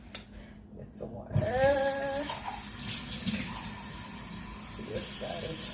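Tap water pours steadily in a home kitchen while fried dumplings are being made, a close, continuous hissing rush that starts abruptly and runs to the end, with a brief voice just before it.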